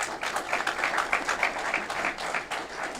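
An audience at a development project announcement in Aurora breaks into applause, a dense, continuous round of clapping lasting a few seconds without speech.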